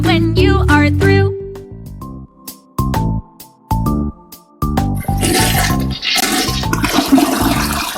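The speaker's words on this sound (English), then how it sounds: "Click on the potty to flush." A cartoon toilet flushes in a children's potty-training learning game, rushing loud and close after a run of bright musical tones and chimes.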